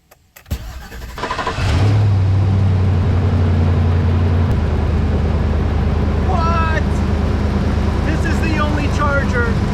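A pickup truck with a 6.0 engine is jump-started from a compact booster pack. The starter cranks briefly, then the engine catches and settles into a loud, steady idle, with a voice speaking over it.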